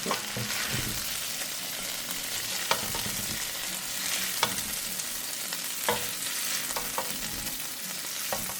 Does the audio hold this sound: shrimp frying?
yes